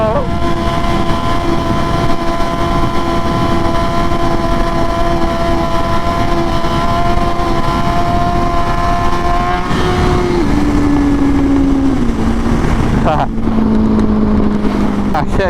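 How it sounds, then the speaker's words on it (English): Engine of a crashed-then-rebuilt BMW S1000RR motorcycle held at high steady revs during a wheelie, droning loud and sustained before dropping in pitch through shifts near the end, with wind noise and voices over it. "Oh, Maxie, he's chasing that wheelie so hard, bro."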